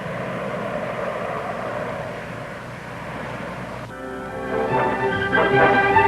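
Jet engines of a Convair 880 airliner drone steadily, then a brighter whining tone with layered harmonics swells in after about four seconds, growing louder toward the end.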